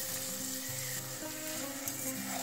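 Vermicelli upma with peas and tomato frying in a pan, giving a steady, close sizzle with faint stirring scrapes throughout.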